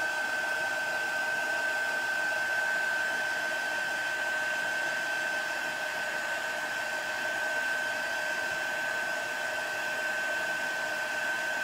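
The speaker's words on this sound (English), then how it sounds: "I'm just using a crafting dryer, so be really careful because it gets hot really," A hot crafting heat dryer runs nonstop, drying chalk paste on a vintage truck Christmas project, a loud steady whirring blow with a sharp whine and no speech over it.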